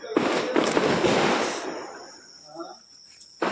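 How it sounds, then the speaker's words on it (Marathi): Diwali firecrackers go off in a loud, crackling burst that rattles on for about a second and a half, then fades into a faint hiss with scattered pops and a sharp crack at the end. "आता पूजा झाली की फटाके उडवूयात"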